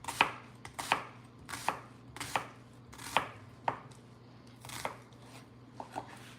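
A knife chops through an onion on a cutting board, slicing it thin: about a dozen crisp, evenly spaced cuts, close and distinct, with a faint steady hum underneath.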